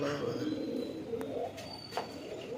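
A pigeon coos softly inside a loft among tournament low-flyer birds. A voice talks at moderate level over it, and a few sharp knocks break through.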